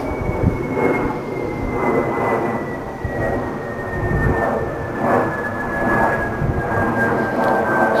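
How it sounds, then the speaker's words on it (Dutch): A steady engine drone with a slowly falling whine as an airplane passes overhead in Ibiza, continuous and fairly loud throughout. "Geluid van een vliegtuig"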